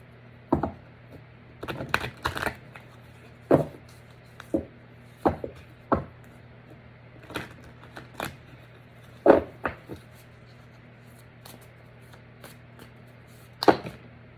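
A deck of cards is shuffled by hand for a spirit-animal oracle reading. Sharp, irregular riffles and taps come close and clear, bunched in short bursts with pauses between, over a steady low hum.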